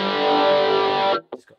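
Electric guitar played through an HX Stomp Rockman-style patch with only the chorus effect on: a sustained, shimmering chord rings loud and steady for about a second, then cuts off, followed by two brief, quieter picked notes.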